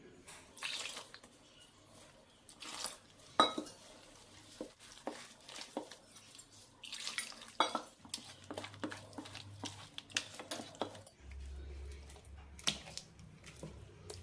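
Idli premix batter mixed with water by hand, making soft, faint squelches and wet splashes in an uneven rhythm, quiet and close, with no voices.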